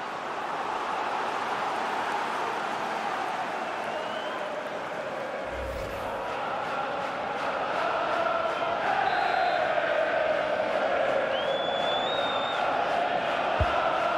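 A large stadium crowd in the football game EA FC 24 during a Champions League group match keeps up a steady, dense roar with chanting. It swells slightly toward the end, and a brief thud and a whistle-like tone cut through.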